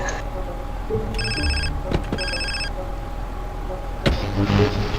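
A phone rings in the GTA San Andreas video game, two bursts of electronic ringing over a steady car engine hum, followed by a sharp click and some game sounds.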